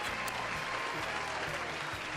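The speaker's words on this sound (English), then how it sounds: "Let's have a round of applause for our guests." Podcast guests are applauded at the close of a Jeopardy-style quiz game, a faint, steady patter of clapping over a low, continuous hum.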